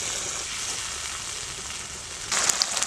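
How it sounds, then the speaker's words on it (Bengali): Spice masala of turmeric, cumin and coriander powder with tomato paste sautéing in hot oil for a cabbage curry, giving a continuous close sizzle that swells louder and crackles near the end. "ভালো করে মশলাটা কষাতে হবে।"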